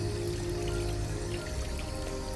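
Water runs steadily from a tap while washing in the video game Detroit Become Human, a soft continuous patter with faint drips, quiet and alone.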